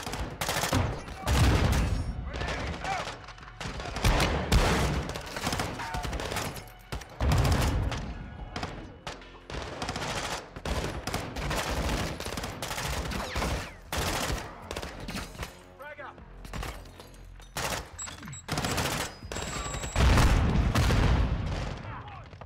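Dense, continuous gunfire from the Prison Break mission of the Call of Duty Modern Warfare 2 campaign, with repeated bursts and heavy booming impacts throughout and shouted soldier voices mixed into the battle.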